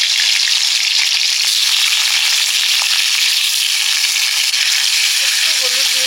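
Chunks of potato and pumpkin sputter and sizzle loudly in hot oil, a dense, steady crackle throughout with faint clinks and a brief voice near the end.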